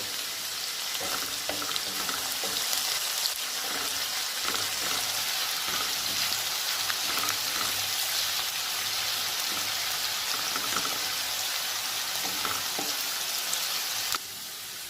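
Onions fry in a pan with whole peppercorns and cumin until reddish, a dense continuous sizzle like steady rain with occasional soft stirring scrapes, close and even throughout, dropping away at the very end, with no voices.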